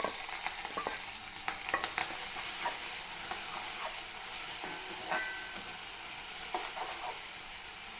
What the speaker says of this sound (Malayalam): ഉള്ളിയും വെളുത്തുള്ളിയും പച്ചമുളകും കൂടി ചതച്ചതാണ് ഇട്ട് കൊടുക്കാം.